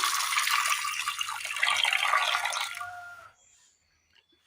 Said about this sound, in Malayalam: അല്പം വെള്ളം ഒഴിച്ചു കൊടുക്കാം